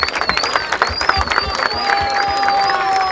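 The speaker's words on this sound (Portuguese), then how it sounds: "Muitas palmas, família, muitas palmas!" At an outdoor rap battle in Barueri, São Paulo, a crowd claps and cheers loudly, with whistles and scattered shouts over dense, continuous applause.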